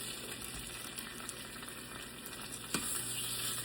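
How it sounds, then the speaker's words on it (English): Scallops sear in a hot pan with a steady, close sizzle and crackle that holds throughout, with a small pop near the end and no talking. "Hear that sear?"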